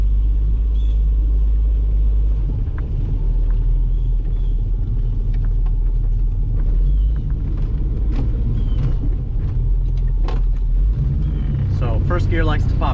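A 1977 Datsun 280Z engine while driving, heard from inside as a deep continuous rumble that rises and falls with throttle, with someone talking over it.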